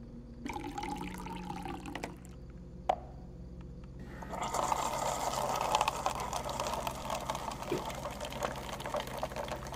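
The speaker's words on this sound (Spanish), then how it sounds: "Una taza vacía para llenarla de agua." Water pouring into an empty cup in the horror game Fears to Fathom: Woodbury Getaway, a steady close rush of running liquid that swells after a few seconds of quieter ambience with a faint click, then continues unbroken.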